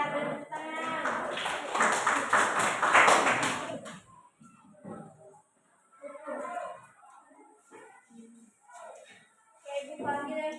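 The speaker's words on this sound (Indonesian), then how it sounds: "Benar, tepuk tangan." Classroom of students bursts into a loud round of clapping for a correct answer, a dense flurry that fades after a few seconds, followed by quieter talking.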